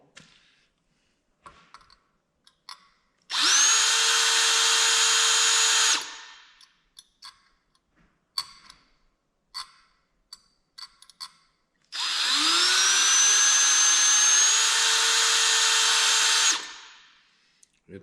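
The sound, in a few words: power drill drilling through chrome steering column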